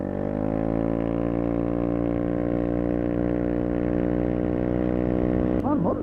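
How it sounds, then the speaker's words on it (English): Steady engine drone with strong harmonics from passing motorcycles on a ride near the Susquehanna River, heard from a Honda PCX scooter, loud and continuous throughout with a brief wavering tone near the end. "A lot of motorcycles out today."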